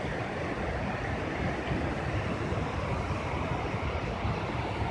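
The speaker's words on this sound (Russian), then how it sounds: "Здесь водопад, ну, перекат, не водопад," Mountain river rapids in the Terskol valley, a dense, steady roar of rushing water, loud and continuous throughout with no voices.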